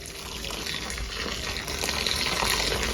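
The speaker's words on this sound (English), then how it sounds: "So pour the boiling water into the container and close the lid so all the salt can come off the fish." Boiling water gushing steadily into a container holding salted fish, a continuous close pour that grows slightly louder toward the end.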